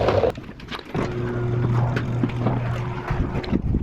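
A generator engine that also serves as a welder runs outdoors with a steady low drone under gusty wind noise, and a few knocks and rattles break in near the start and end.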